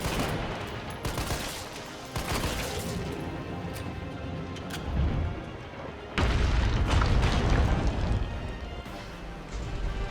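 Rapid gunfire and heavy booms from Resident Evil 3 Remake as shots hit a monster's two weak points, loud dense bursts filling the stretch with brief lulls between volleys.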